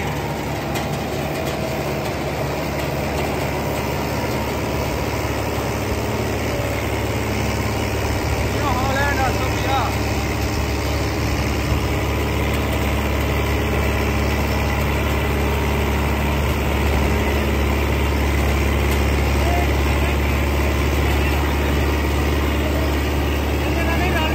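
A New Holland 850 tractor engine idles steadily in the open, a constant low rumble with a faint higher whine, unbroken from start to end, with voices talking at points over it.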